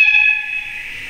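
A shrill, steady shunting whistle tone from a Hobbytrain BR 110/112 model electric locomotive sound decoder, held for about a second, fading slightly toward the end, with a faint hiss underneath.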